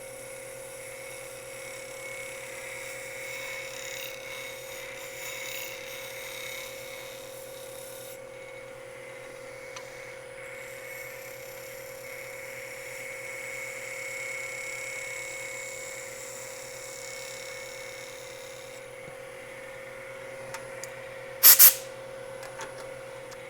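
A lathe cutter turns a resin Easter egg: a steady motor hum with a continuous scraping rasp of shavings coming off, shifting in texture midway, then a brief sharp burst near the end.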